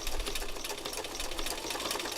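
A sewing machine stitches a narrow zigzag with a rapid, steady rattling chatter, close and fairly quiet, running continuously.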